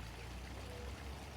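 Creek water flowing steadily in a wildflower garden, a soft continuous wash of running water close by with no voices.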